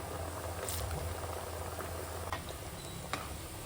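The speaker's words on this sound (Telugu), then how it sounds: "మీడియం ఫ్లేమ్లోనే పెట్టి చక్కగా గోల్డెన్ బ్రౌన్ కలర్ వచ్చేదాకా వేయించుకోవాలి" Sweet corn vadas deep frying in hot oil over a medium flame, a steady dense bubbling sizzle that runs alone without pause and with a few faint pops near the end.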